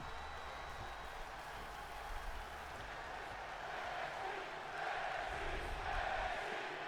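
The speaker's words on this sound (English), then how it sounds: "And certainly the crowd is chanting for NXT." Arena crowd noise from a WWE 2K23 wrestling game at an NXT event, a steady wash of voices with chant-like swells growing louder toward the end, carrying on without pause.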